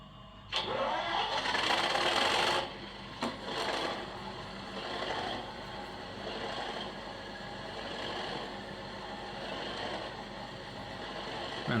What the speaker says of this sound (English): that's pretty much just a startup sequence of the sound at the moment.